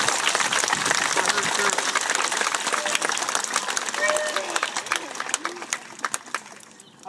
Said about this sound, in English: let's give a huge round of applause to Mrs. Boatwright